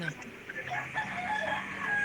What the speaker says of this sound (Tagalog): Parang may bagets na umiiyak kasabay ng pagtilaok ng manok